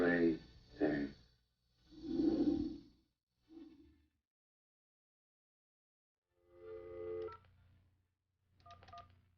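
Telephone dialing tones from an AT&T video phone, a few short bursts of keypad tones separated by pauses, with a voice breathing or murmuring at the start.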